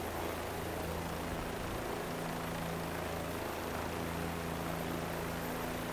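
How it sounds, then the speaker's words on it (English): Helicopter engine and rotor drone from Microsoft Flight Simulator 2020, a steady broadband whine with low tonal hum, continuous and loud throughout with no talk. "We've got a helicopter."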